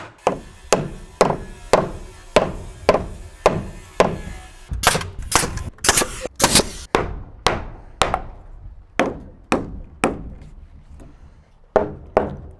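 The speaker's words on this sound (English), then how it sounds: "you just want to make sure and set them with your hammer" Steady, ringing hammer blows set nails into wood while framing an interior wall, evenly spaced at first, then a quick flurry of hits before the regular rhythm resumes.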